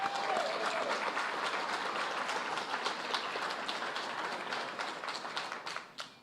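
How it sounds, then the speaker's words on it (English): An audience at an anniversary celebration breaks into a round of applause, dense and sustained clapping from many hands that gradually thins and fades toward the end. "I think that deserves another round of applause."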